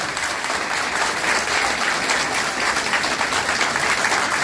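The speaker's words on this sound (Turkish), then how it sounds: "Öncelikle bir kadınlarımızı alkışlayalım" A crowd at a women's branch political rally in Beykoz applauding the women, dense sustained clapping from many hands throughout, loud and steady.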